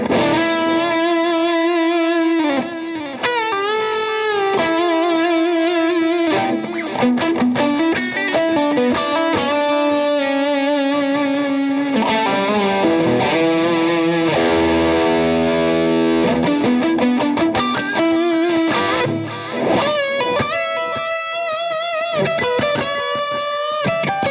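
Distorted electric guitar played through a mini amp, with a delay pedal run in mono in the effects loop adding trailing repeats; a steady, loud stream of sustained chords and lead lines fills the whole stretch, with no talking.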